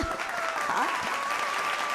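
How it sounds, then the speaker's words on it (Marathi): An audience at a Marathi kirtan performance breaks into brief, continuous applause, with a voice and instrumental tones sounding over the clapping. "एकदा टाळ्या वाजवा यांच्याकरता"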